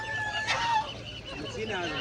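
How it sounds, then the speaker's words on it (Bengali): Young Chinese ducklings call in short high chirps at a busy pet bird market in Tongi, with people talking in the background. "চীনা হাঁসের বাচ্চা।"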